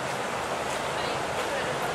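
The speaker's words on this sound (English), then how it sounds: "if you listen to your left, you'll be hearing the waterfall" A waterfall in the Byron Bay jungle gives a broad, steady rushing roar of falling water, continuous and fairly loud, with no distinct breaks.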